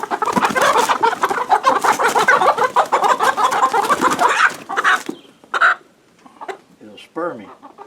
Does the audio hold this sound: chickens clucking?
yes